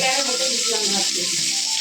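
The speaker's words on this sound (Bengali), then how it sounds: "এই পটলটা ভাজা হতে হতে আর লঙ্কা ভাজা হয়ে যাবে" Pointed gourd and green chillies frying in oil in a home kitchen, giving a steady, close sizzling hiss throughout while someone speaks softly over it.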